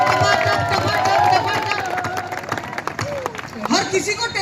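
Audience applause at a kavi sammelan poetry show during a Bollywood Dhamal Night at the Kishangarh Balaji fair: a dense crowd clapping that swells and then thins, with a voice and background babble carrying over it.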